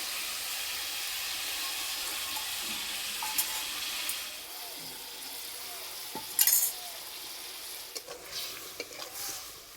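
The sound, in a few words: sesame paste mixture added and cooking with cauliflower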